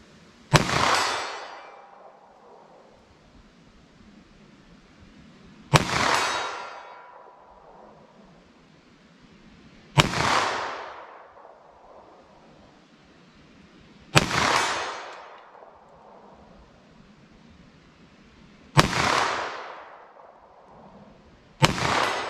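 Five loud 9mm +P pistol shots fired at targets, each a sharp crack with a long ringing decay, spaced about four to five seconds apart with no talking.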